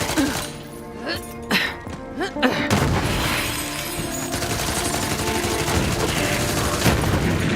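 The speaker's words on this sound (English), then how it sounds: "Grenade, going." A Borderlands grenade goes off with a sharp shattering blast, preceded by a few scattered impacts and followed by dense, sustained crackling gunfire and a voice speaking underneath.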